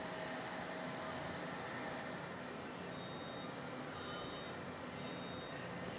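Boeing 737 MAX engines in the X-Plane flight simulator, a quiet steady broadband jet roar with a faint high whine, droning evenly throughout with no talk.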